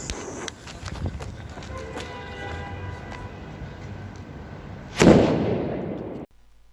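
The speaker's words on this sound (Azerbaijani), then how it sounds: "Yəni heç vaxt bilmirdim ki, super piratdan belə bir səs çıxar." A Super Pirat firecracker bursts with one loud, sharp bang near the end, set against steady outdoor rumble and noise on a New Year's night, the blast decaying briefly before cutting off.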